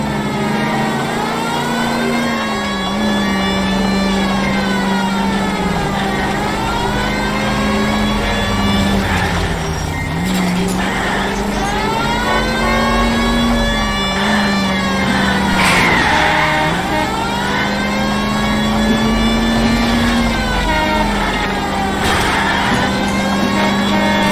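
Car engine in L.A. Noire revving hard through a chase, a loud continuous drone with rising and falling pitch sweeps as the vehicle accelerates and shifts, overlaid by a wailing police siren throughout.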